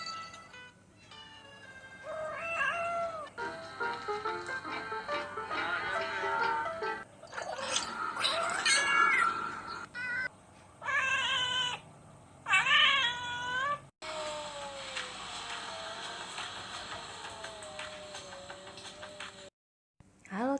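Pet cat meowing repeatedly and close, a string of drawn-out, wavering mews and cries with short pauses, loud against a quiet indoor background.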